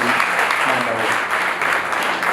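A wedding congregation claps together in steady, dense applause that fills the whole stretch at an even, loud level with no gaps.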